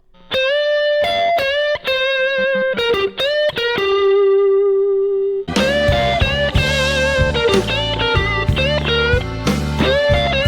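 An overdriven electric guitar plays a slow blues rock pentatonic phrase with bent, sustained notes, then a full band with drums and bass kicks in loudly.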